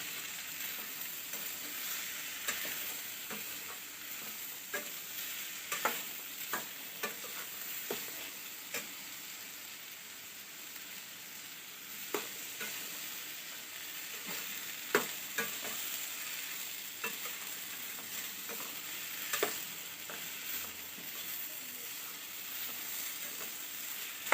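Green field beans with chili powder sauté in a pan, a faint steady sizzle broken by scattered light taps and scrapes of a spoon being stirred through them.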